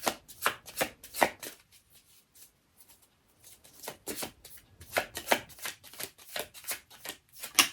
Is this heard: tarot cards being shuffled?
yes